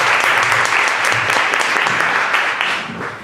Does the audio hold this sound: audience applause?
yes